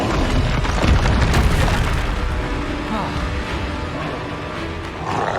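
Fiery Confringo blasts from a wizard's wand in Hogwarts Legacy combat, a heavy booming burst early on that rolls into a sustained rumbling roar with crackling debris, loud throughout.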